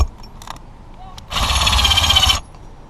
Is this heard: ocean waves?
no